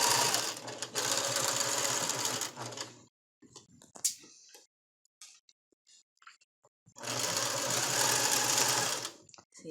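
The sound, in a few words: sewing machine stitching a lace flower girl dress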